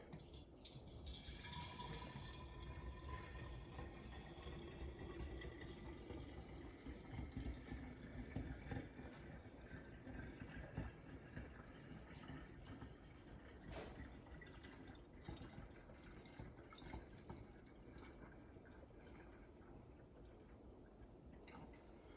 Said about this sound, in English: I'm not gonna pour anymore because the foam